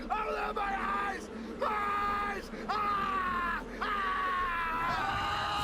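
A man lets out four long, strained screams in a row, each rising then trailing off, loud and close.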